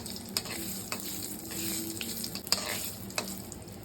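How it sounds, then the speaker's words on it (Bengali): Cumin seeds and dried chilies sizzling in hot oil for lentil dal, a soft continuous crackle punctuated by a few sharp pops and spatters, close and fairly quiet. "গরম করতে, তারপরে একটু জিরা আর শুকনো মরিচ দিয়ে দিলাম"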